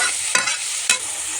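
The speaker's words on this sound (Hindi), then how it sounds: "अच्छे से इसको हम भून लेते हैं" Mushrooms frying in a pan, a steady bright sizzle broken by two sharp scraping stirs, close and fairly loud with no talk.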